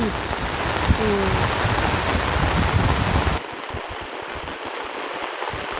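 Heavy rain pours down in a dense, loud wash, hissing steadily throughout and dropping slightly in level partway through.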